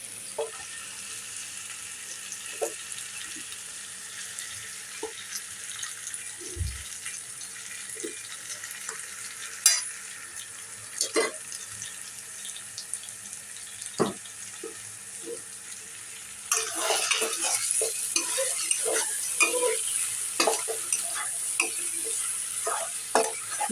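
Shrimp fried with taro stolons in a pan, stirred again and again: scattered scrapes and clinks over a soft sizzle, then the frying grows suddenly louder and hissier for the last stretch, no voices.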